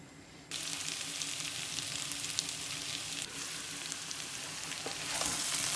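Spicy potatoes sizzle steadily in a covered pan at a barbecue, a close, even hiss that starts abruptly and swells slightly louder toward the end.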